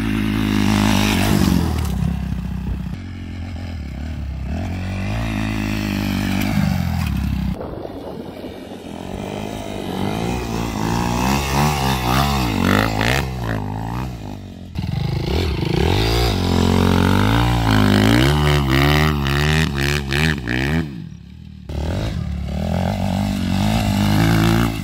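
Motorcycle ridden just after a clutch replacement, its engine revving up and down with shifting pitch through gear changes, loud and close with no talk.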